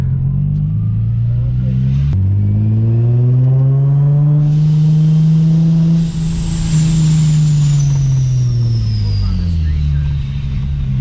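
A supercharged Infiniti G35 accelerates hard with a loud, rising engine note and climbing harmonics, a high supercharger whine layered on top, then easing off near the end; voices talk briefly inside the car.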